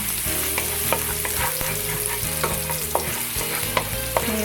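Chopped garlic stirred in hot oil in a pan while cooking adobong paksiw na tuna. A steady, close sizzle runs throughout, with repeated clicks and scrapes of the stirring utensil and no talking.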